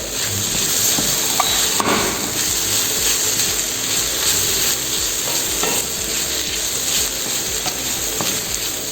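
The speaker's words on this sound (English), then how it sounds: "add some salt accordingly, and give it a nice stir." Spicy Thai-style noodles, seasoned with salt, are stirred in a hot pan: a continuous close sizzle with scraping, clicking stirs throughout and no talking.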